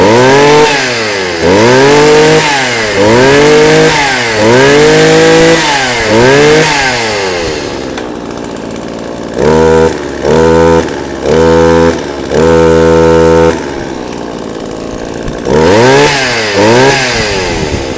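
A Shindaiwa chainsaw, model Q9 with a 38 mm cylinder, revs loudly and close in repeated rising and falling bursts, then settles into a steady idle broken by short throttle blips before revving hard again.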